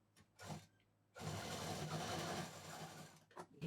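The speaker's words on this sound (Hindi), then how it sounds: "अब इसको हम सफाई से सिल देंगे।" A sewing machine runs a steady stitching burst of about two and a half seconds, closing a seam on a traditional potli bag, after a few brief handling clicks.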